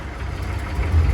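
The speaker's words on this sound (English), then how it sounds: "the brake's on, but you'll be able to hear the engine" A Humvee engine idles with a low, steady rumble, close by and fairly loud, growing a little heavier toward the end, with the brake on.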